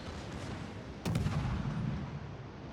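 A warship fires its guns in a naval battle game, the Swedish destroyer Östergötland in World of Warships: one sudden loud boom with a rumbling tail that lingers over steady background engine and sea noise.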